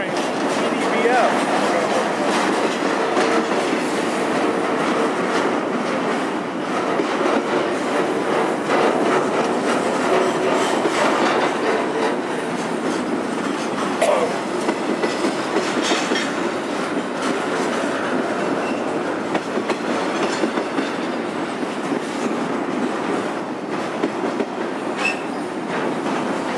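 A Norfolk Southern freight train rumbles past through East Deerfield Yard steadily for the whole stretch, with rolling wheel noise, rhythmic clatter over the rails and occasional faint squeals, loud and close.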